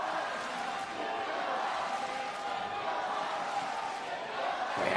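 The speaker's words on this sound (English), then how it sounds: "When they get their moment, the crowd, they really make their voices heard" Crowd noise fills a goalball arena in South Paris during a gold medal match, a steady roar of voices and cheering that holds throughout and swells slightly near the end.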